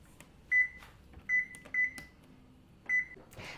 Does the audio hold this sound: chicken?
no